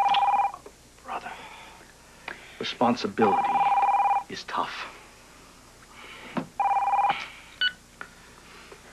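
A landline telephone in a 1999 Port Charles soap opera scene rings in repeated electronic bursts, each ring cutting in among tense, overlapping dialogue between people arguing about whether to answer.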